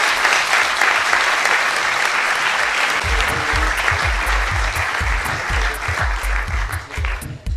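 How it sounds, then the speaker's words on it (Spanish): Loud, sustained applause from a large audience, steady clapping throughout that begins to thin out near the end. "Un fuerte aplauso."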